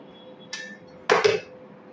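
A lid comes off a cooking pot holding batter for a palm-fruit cake: a light clink, then a louder metallic clatter with a quick double knock, close by in a quiet kitchen.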